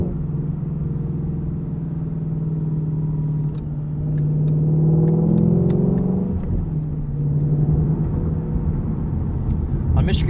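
A 2016 Ford Mustang Shelby GT350 engine pulls through its rev range with a steady, close rumbling drone that swells in the middle and then eases off.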